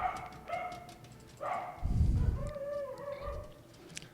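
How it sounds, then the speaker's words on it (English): Dogs barking in the background, several short yips and barks, one louder burst in the middle. "I apologize if you can hear the sounds of the dogs barking."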